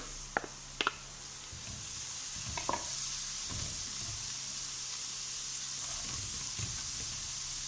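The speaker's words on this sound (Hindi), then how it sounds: "प्याज को हम हल्का सा फ्राई करेंगे।" Chopped onion frying lightly in hot oil in a pan, a steady soft sizzle running throughout with a few sharp clinks and stirring scrapes of a spoon against the pan.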